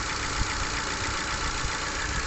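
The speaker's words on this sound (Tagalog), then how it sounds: "narinig nyo na nanginginig ang makina, nagsishake ang makina ngayon" Engine of a Ford EcoSport with automatic transmission idling roughly and shaking after an injector test, with a dense, steady close-up rumble and faint irregular knocks throughout.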